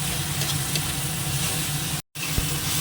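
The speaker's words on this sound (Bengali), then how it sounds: "আর দিয়ে দেবো রসুন বাটা। এটা একটু ভেজে এর কাঁচা গন্ধটা চলে যাক" Steady, close hiss of garlic paste frying in hot oil, continuous throughout with a brief dropout near the end.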